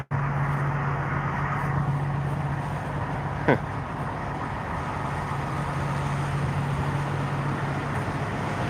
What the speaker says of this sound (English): so we got another line of cars here and trucks.